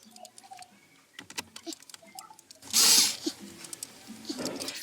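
Screws being driven back in while refitting a Ford's original dashboard screen: scattered clicks and short mechanical taps, then a brief loud burst of driver whir near the middle, followed by more light handling noises.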